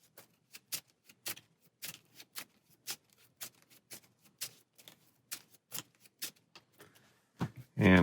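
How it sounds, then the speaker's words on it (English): Marvel Champions invocation deck cards are shuffled by hand, giving a run of quick, crisp riffling bursts in an even rhythm, close and quiet, ending with a louder handling noise. "we shuffle our invocation stack"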